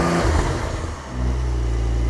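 Brabus-tuned Porsche 911 Turbo S engine revving up close, a loud sustained roar that dips briefly mid-rev before climbing back to a steady high drone, with no talking.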